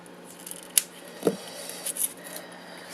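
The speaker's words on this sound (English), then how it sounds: "No, we're going to have to go back to doing it with scissors." Scissors snip through gold-threaded ribbon with a couple of crisp, close cuts and faint rustling between them in a quiet room.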